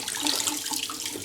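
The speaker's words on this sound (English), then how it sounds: "And that'll drain right out and go down the drain" Water from a foot spa basin drains steadily into a sink, a continuous close trickling and splashing that holds even across the short stretch with no other sounds.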